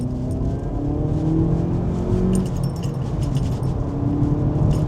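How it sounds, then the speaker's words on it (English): A VW Polo GTI accelerating hard on a UK road, its engine note climbing steadily in pitch through the gears with a brief dip at a shift, loud and close from inside the cabin, with steady road roar underneath. "I'll give you a demonstration of the power of the GTI"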